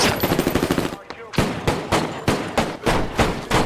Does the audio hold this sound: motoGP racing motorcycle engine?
no